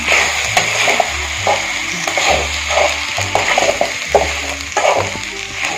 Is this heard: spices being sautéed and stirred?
yes